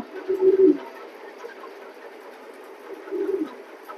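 A pair of large racing pigeons gives low cooing calls, two short bursts near the start and end over a faint steady background hum.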